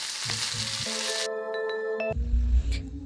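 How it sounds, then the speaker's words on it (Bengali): Potatoes and green chillies frying in a pan for a Bengali gugli aloo jhol, giving a steady close sizzle that shifts midway into a duller, lower frying hiss with faint tonal ringing on top. "প্রথমে আলু তারপর কাঁচা লঙ্কা দিয়ে ভালো করে ভেজে নেব"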